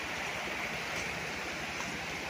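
A river beside a farm lot in Real, Quezon gives off a steady, even rush of flowing water that fills the whole moment with constant broadband noise.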